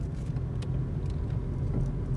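A car drives along with a polycarbonate roof panel strapped on top, giving a steady low road rumble inside the cabin with faint intermittent rattles and no talking.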